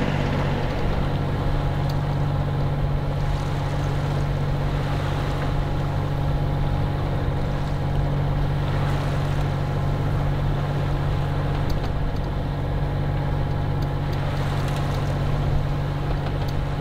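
A sailboat motors under engine power on a calm, windless sea during a solo sail, its steady engine drone running continuously and evenly throughout with no talk.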